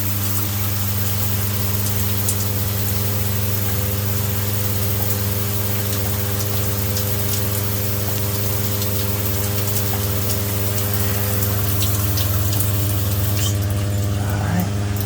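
An ITT Jabsco 37202-0000 DC water pump fitted with an improvised diaphragm runs with water, producing a steady, close, even electric hum with a faint watery hiss and no pauses.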